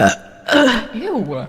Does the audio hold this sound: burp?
yes